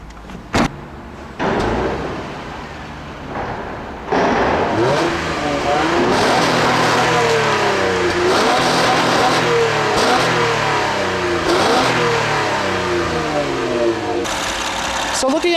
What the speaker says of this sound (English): This 3-liter V6 makes a nice sound when you put your foot down on that gas pedal.